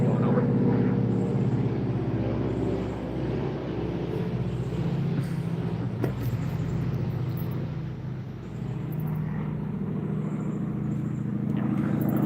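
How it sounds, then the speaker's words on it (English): Airplane passing overhead on a nice-weather day outdoors, a steady broad distant roar that swells and eases slightly over several seconds, heard alone without talk. "that's a plane going over."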